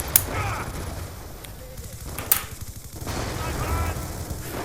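A mounted gun turret fires in a video game, sharp bursts landing near the start and again around midway over a busy backdrop of game noise.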